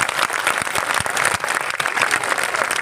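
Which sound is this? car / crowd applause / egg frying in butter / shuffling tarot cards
crowd applause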